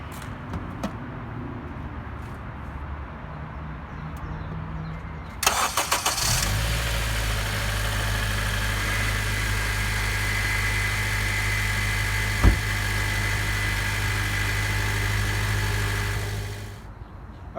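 A 2006-2011 Honda Civic Si cranks briefly and catches. The engine then settles into a steady, even idle heard up close, with one short sharp click partway through and the engine shutting off at the end.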